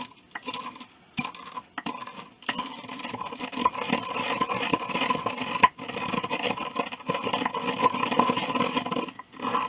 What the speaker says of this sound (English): I'm going to add that to my mortar and pestle. And then I'm going to grind it up.